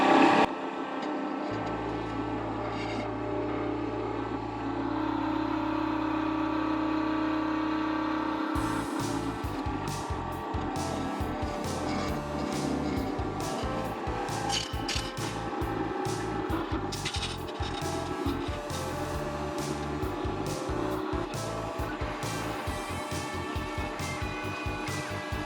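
A wood lathe spinning at 2,000 RPM turns a resin blank, giving a steady whirring hum, then a close, rapid run of scraping and chattering ticks as the tool cuts for the rest of the stretch.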